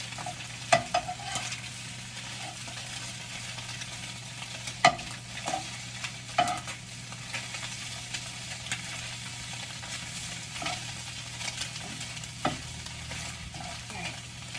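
An egg fries in a pan for a breakfast tortilla, giving a steady close sizzle with occasional sharp pops and crackles, heard alone without voices.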